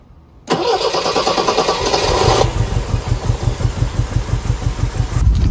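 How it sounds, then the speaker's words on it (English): A 1978 MGB's engine cranks briefly after a short silence, catches, and settles into a loud, close, rhythmic idle with a pulsing low chug that continues to the end. "I'm gonna start the car."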